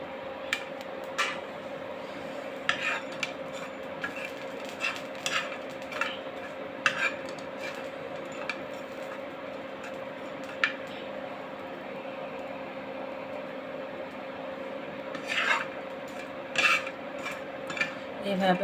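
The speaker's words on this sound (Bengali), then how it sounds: "শুটকি মাছগুলো এখন ভেজে নিতে হবে।" Dried fish being stirred as it fries in a pan over medium-low heat, giving a steady soft sizzle with repeated scraping and clinking strokes of a utensil against the pan, close and fairly quiet throughout.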